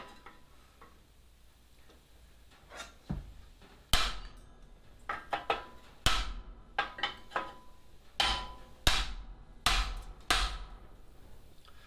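A hammer drives a chisel into sheet metal for a handmade sign, sharp ringing strikes landing singly and in quick clusters, close and fairly loud against a quiet background.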